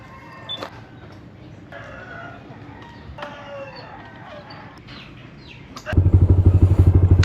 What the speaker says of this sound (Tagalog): painit na tayo ng motor